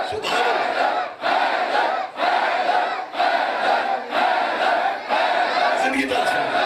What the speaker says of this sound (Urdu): دونوں بازو بلند کر کے حیدر حیدر